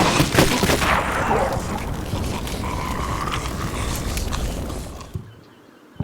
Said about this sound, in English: Behind the tank fire, another Russian infantry attack is underway.